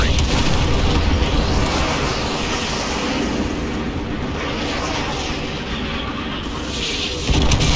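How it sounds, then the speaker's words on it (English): Artillery strike explosions in Call of Duty Modern Warfare 2 Remastered, a continuous heavy roar of booms and rumbling blasts mixed with aircraft engine drone, loud and dense throughout. "Fire mission received. Artillery inbound. Coordinates confirmed. Firing."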